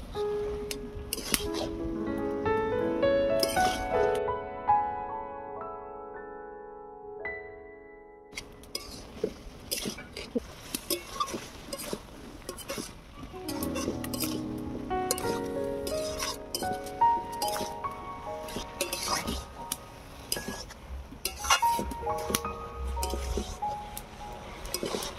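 Fig curry stirred and sautéed in a pan, with repeated metal clinks and scrapes of a spoon against the pan and light sizzling, intermittent and close throughout.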